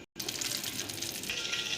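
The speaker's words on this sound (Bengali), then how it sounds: "তেল গরম হয়ে গেছে, মাছটা ছেড়ে দেব।" Boal fish sizzles and crackles loudly after going into hot oil in a wok, a dense spattering roar that starts abruptly after a brief silence and holds steady throughout.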